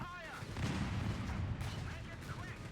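Gunfire and explosions from a Company of Heroes 3 real-time strategy battle pop and crackle in a dense, busy mix, with bursts under faint background chatter.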